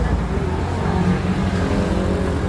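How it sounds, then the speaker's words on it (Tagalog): Dense road traffic rumbling past a street crossing in Macao at night, a continuous loud engine drone with cars passing close by. "Mabibilis naman ang sasakyan."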